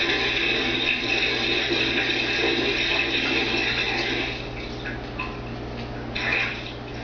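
Water runs into a home bathtub, a steady rushing stream that softens partway through, then a few small splashes near the end.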